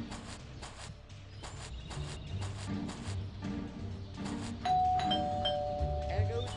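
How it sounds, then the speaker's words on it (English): A doorbell in the video game Scary Teacher 3D rings in a series of evenly spaced ding-dong chimes, with soft footstep-like thuds and a character voice faintly beneath. "There goes that stupid bell again."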